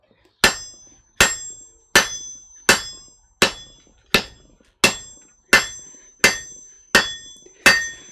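Hammer blows on hot iron at a blacksmith's anvil, eleven sharp ringing strikes spaced evenly about 0.7 seconds apart, each with a bright metallic clink that decays quickly, close and loud with no talking.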